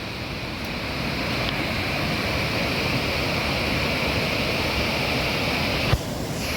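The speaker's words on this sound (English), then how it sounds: "You can see the beautiful river here." Steady broadband rush of a river flowing beneath a bridge on a low-altitude Darjeeling hike near the Sidrapong Hydel Project, continuous and fairly loud, with no talk.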